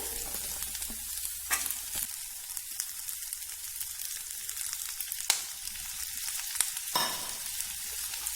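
Grated coconut sautéing and stirring in a pan for mixed chutney, a steady soft sizzle with occasional scraping strokes of a spoon, close and alone without talk.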